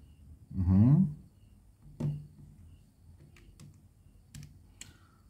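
Calculator buttons pressed to switch into equation mode while solving a quadratic equation: a series of small, sharp clicks spaced irregularly, close and fairly quiet, with a brief low voice earlier in the sequence.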